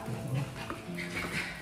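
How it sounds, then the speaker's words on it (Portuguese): Dog barking and whimpering indoors near midnight, a few short, fairly faint yips and bark-like cries close by with no talk. "o Ralph tá latindo"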